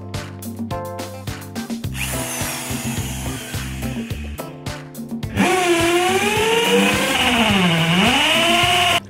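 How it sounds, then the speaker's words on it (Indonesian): A power drill fitted with a 10–15 mm wood bit bores holes in a door for a Fantech smart door lock. It whirs loudly in short stuttering bursts, then grinds steadily and strains as it cuts through the wood. "kita dapat menggunakan mata bor kayu dengan diameter 10 hingga 15 mm"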